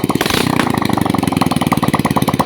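A Motorstar motorcycle engine, pulled from a junkshop and fitted with a new spark plug, catches and runs with a fast, loud, close putter and an even rapid beat after a brief rough start.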